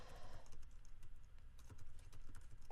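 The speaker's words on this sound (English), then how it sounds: "I'm just going to type a little HTML code, and I just type it directly in here" Typing HTML code on a computer keyboard, a faint rapid patter of key clicks over a low background hum, with no one speaking.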